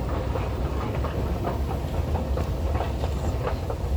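Lille metro train running along the track, a continuous loud rumble with faint rhythmic rail clatter throughout and no speech.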